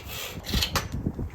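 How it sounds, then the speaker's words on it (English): A sliver trimmed off the end of a wooden hatchet handle, heard as a few short, close rasping strokes of wood being cut or rubbed, with no talk. "I'm also going to trim a slither off the end here."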